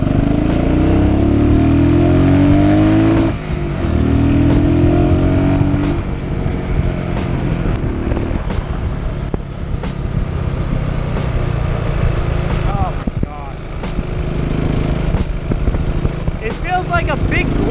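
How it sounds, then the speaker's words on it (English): Buell Blast motorcycle engine and exhaust running steadily and fairly loud, a low throbbing drone with a speed change partway through, heard from the rider's position with wind noise and some talk over it. "The exhaust definitely sounds pretty nice."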